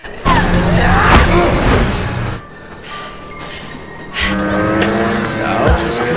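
Snowmobile engine roaring loudly in the horror film Wrong Turn 4, revving through the first two seconds, dropping away, then surging again with rising whine toward the end.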